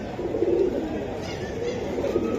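A Khoira gola pigeon gives low, muffled coos, a couple of soft burbling phrases over a noisy, murmuring background.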